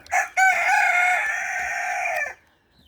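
A single rooster crows loudly and close, a long drawn-out call lasting about two seconds, with a short squawk just before it.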